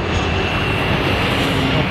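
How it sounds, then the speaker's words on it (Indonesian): A fixed-wing airplane flies low over Jalan Jatiwaringin near the end of an airport runway in Jakarta, giving a steady, dense engine roar throughout with no talk. "Terdengar suara pesawat ya, samar-samar ya."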